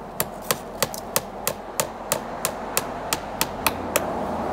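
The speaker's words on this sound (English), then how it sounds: "I'll put one more nail in" A hammer driving a nail into a tree trunk, about a dozen sharp, evenly spaced strikes at a steady rhythm, loud and close, with no one talking.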